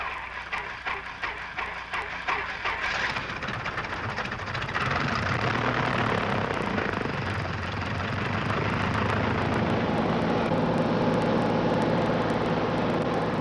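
A small single-engine training airplane drones steadily in flight, a continuous loud engine and propeller hum heard from inside the cabin that grows fuller midway.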